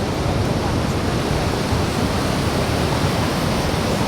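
High ocean waves at Madasari beach, a loud, constant broadband roar of surf filling the whole clip without pause.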